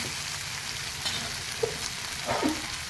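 Spiced goat head fries in a pan with a steady broadband sizzle, broken by a few scraping stirs of a spoon against the metal, close and moderately loud with no talking.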